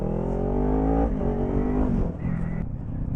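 A Kawasaki Ninja 400 motorcycle pulls away from a light in Melbourne city traffic, its engine note rising steadily through the revs, loud and close, then shifting gear and easing off near the end.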